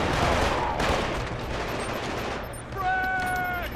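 Rapid gunfire from the video game Killzone 2, loud dense bursts filling the first seconds, then a brief lull before more shots and ringing electronic game tones near the end.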